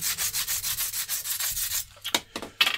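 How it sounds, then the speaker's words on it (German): Rapid back-and-forth hand sanding of a repaired fiberglass boat hull rasps in a steady rhythm, then slows into a few separate, scratchy strokes near the end. "Schleife nochmal die Dekostelle, wo meine Hilfskonstruktion dran gesessen hat, an"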